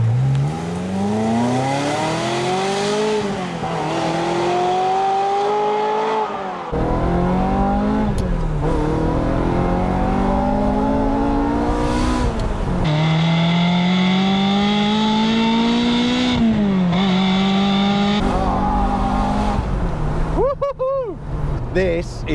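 Ferrari 355 Spider engine under way, the exhaust note climbing steadily in pitch through each gear before dropping at the shifts, loud and continuous from inside the moving car.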